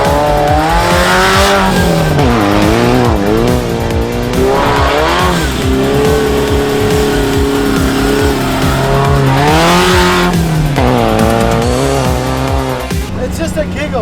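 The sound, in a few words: Mazda Miata driving over off-road whoops at Moab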